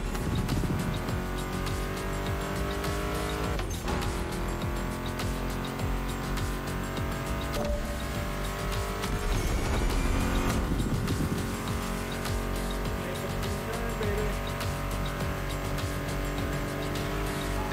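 Muscle car engines in a racing video game drone loud and continuously, a dense, layered roar with steady revving and passing surges, blended with background game audio.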